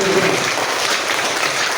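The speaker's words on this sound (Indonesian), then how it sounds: "Tepuk tangan dulu untuk" Applause from a group at a health-education session on clean and healthy living, a dense, even patter of clapping hands throughout, fairly close, with no clear speech over it.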